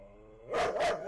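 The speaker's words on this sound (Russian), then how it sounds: "Пёс на меня ругается что-то." A pet dog barking indoors in the room, two quick loud barks close by, following a quiet stretch of faint background hum.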